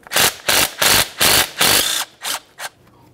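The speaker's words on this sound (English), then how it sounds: "let's remove our 10mm headed mounting bolt" A ratchet removes a 10mm mounting bolt from the transmission speed sensor of a 2012-2018 Nissan Altima. It makes a run of loud, close, rhythmic clicking strokes that slow and shorten toward the end. No one speaks.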